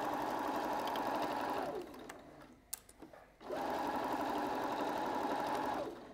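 A sewing machine stitches a faux leather seam in two long steady runs with a brief pause between them, close and continuous, with no voices.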